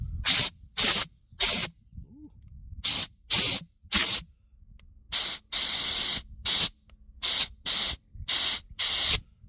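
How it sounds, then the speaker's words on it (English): Repeated short bursts of compressed air blasted into the clogged carburetor of an old 1980s Nissan generator, a dozen loud close hissing sprays of varying length separated by brief silences. "So we'll give it a shot of air."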